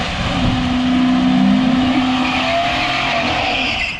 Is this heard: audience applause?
no